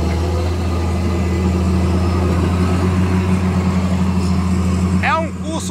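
A motor grader engine runs at a steady, loud, low rumble during an operator training course. Someone talks over it, and a short burst of other voices comes near the end.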